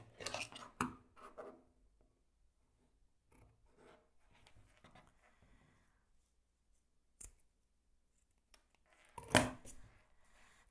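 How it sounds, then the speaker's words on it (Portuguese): Scissors snip through a zipper to cut it to length while making a small fabric wallet, a few sharp close cuts with scattered rustling and long quiet pauses between. "Agora você vai cortar esse zíper exatamente com 25 centímetros."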